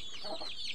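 Chickens gather near a dead animal outdoors, giving off a quick run of high, close clucks and squawks over a brief moment, with no talk heard.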